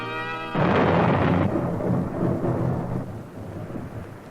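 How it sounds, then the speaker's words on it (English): A loud thunderclap bursts in and rolls on as a long, heavy rumble with a rain-like wash, slowly fading over several seconds with no voices. "his anger caused thunder and lightning"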